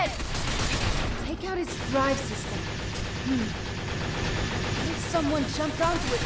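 Gunfire in the video game Binary Domain, rapid bursts of shots and impacts over a dense, continuous battle din, with someone talking over parts of it.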